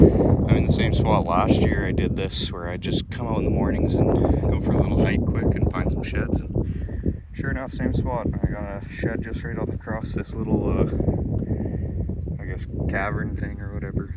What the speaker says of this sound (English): I apologize for the wind, guys. It's pretty windy this morning